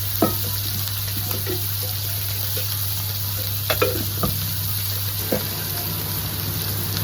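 Surmai fish frying in oil, a steady close sizzle with a constant hum underneath and occasional clicks and taps of turning pieces in the pan.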